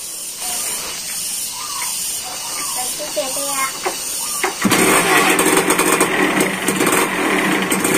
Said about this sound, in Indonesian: Kita kasih waktu 10 detik harus bisa nyala motor tersebut.